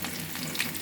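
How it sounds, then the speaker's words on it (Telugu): Mustard seeds and urad dal fry in a little oil for tempering, giving a close, steady sizzle with light crackling pops. "తాలింపుకి కొద్ది నూనె పోసుకున్నాను ఫ్రెండ్స్. ఆవాలు మినపప్పు వేసుకున్నాను."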